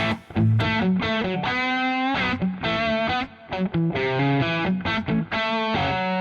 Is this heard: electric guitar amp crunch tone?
yes